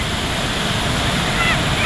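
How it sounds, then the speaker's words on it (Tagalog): Continuous roaring ocean surf with heavy wind noise buffeting the microphone, a broad steady wash of water sound. "May alon pa, may alon pa."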